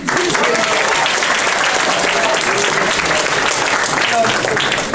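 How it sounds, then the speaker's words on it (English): A theatre-show audience applauds loudly and without a break, with a dense wash of clapping and some crowd voices mixed in. "first we're gonna applaud everyone who"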